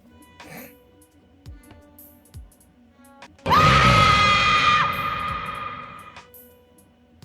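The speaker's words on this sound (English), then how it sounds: "Did someone scream? I've got the Halloween sounds on, don't I?" A sudden loud scream sound effect, triggered as a Halloween alert on a live stream, bursts in midway with a sustained shrill pitch over a low rumble, then fades out; quiet room noise and faint talk come before it.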